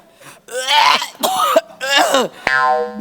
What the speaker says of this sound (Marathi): मला खोकला.